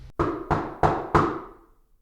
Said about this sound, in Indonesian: Beberapa saat kemudian terdengar suara ketukan di meja konter.